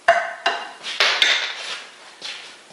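A small metal T-nut handled on a Pratt & Whitney lathe under restoration, giving several sharp metallic clinks and taps at irregular intervals, each ringing briefly, close and fairly loud with no talking.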